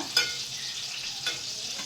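Dark hybrid brinjals (eggplants) fry in a pan with a steady, close hiss of sizzling oil and two brief stirring clicks, with no talking.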